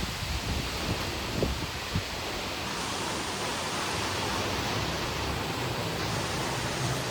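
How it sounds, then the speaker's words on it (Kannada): Heavy strong wind blowing outdoors, a continuous loud rushing roar buffeting the microphone with a few low gusts, no voices. "ಹೆವಿ ಗಾಳಿ ಭಯಂಕರ ಗಾಳಿ"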